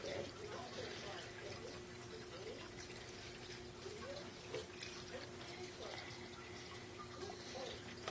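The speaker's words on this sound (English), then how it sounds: "Fill it up with water." Tap water steadily running and trickling into the tank of a steam cleaning sanitizer, a faint, continuous watery hiss, with people talking over it.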